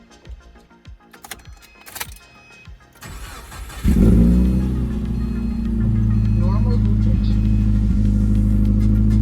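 Subaru Impreza engine starting after some clicking and rustling, then settling into a steady warm-up idle that stays loud and close to the end, with talk early on.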